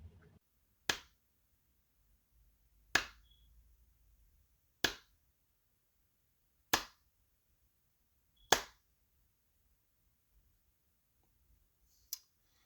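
Hand clapping, six sharp single claps spaced about two seconds apart, crisp and close in an otherwise quiet room with no talk.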